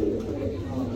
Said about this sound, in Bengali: আফসান গ্রিজেল রেসার একটা নর কবুতর